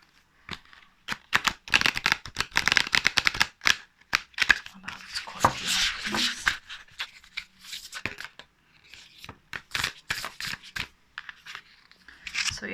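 Enchanted Blossom Oracle deck cards are shuffled during a tarot reading: close, papery riffles and flicks come in uneven bursts with brief gaps between them, and no talking is heard.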